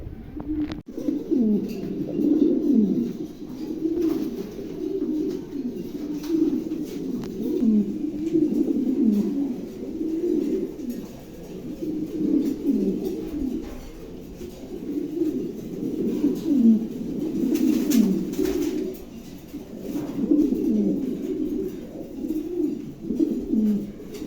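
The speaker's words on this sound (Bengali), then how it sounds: "চমৎকার এক জোড়া কবুতর" Pigeons cooing steadily in low, rolling, repeated calls, close by and continuous for a long stretch with no talking.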